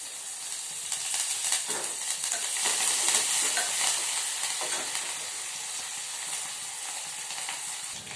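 Curry leaves frying in a hot pan while being stirred, a steady broadband sizzle with scraping stir strokes, fairly close and continuous throughout.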